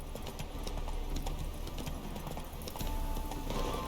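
A horse trots along in The Witcher 3, its hooves clip-clopping in a steady, fairly close rhythm over a continuous game background, with no talk.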